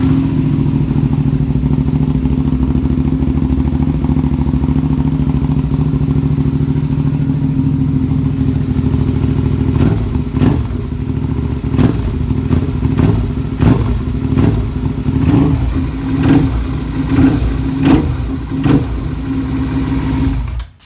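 A Mazda Miata engine runs loud and close with a steady low rumble, joined midway by a series of sharp, irregular clicking clatters that continue until it cuts off abruptly, with no talking.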